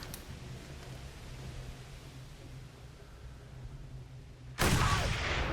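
A sharp, loud burst of gunfire erupts near the end of a stretch of low ambient rumble in the Mad Max video game, with noisy crackling decay afterward.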